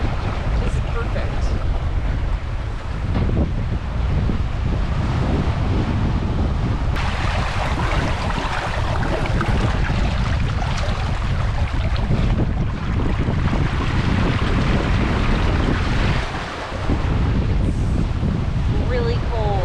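Steady wind buffets the microphone aboard a sailboat under way in cold weather, a dense continuous roar with water and hull noise mixed in, loud and constant throughout with no talking.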